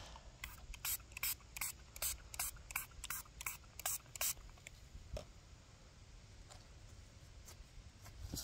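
A spray bottle squirts water onto dug-up coins in a steady series of about a dozen close, crisp hisses, then stops, leaving a few faint drips and taps in a quiet outdoor setting.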